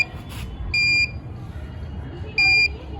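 Two short, high electronic beeps from a mini metal detector sound about a second and a half apart over a low background hum.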